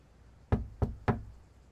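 Three crisp knocks on a front door in the video game Lake, evenly spaced and close, then quiet.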